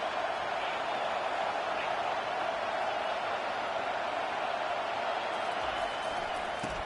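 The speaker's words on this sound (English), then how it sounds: "This crowd bringing the energy and noise early." A football stadium crowd keeps up a dense, steady roar throughout. The broad wash of noise never breaks, with no distinct cheers or applause standing out.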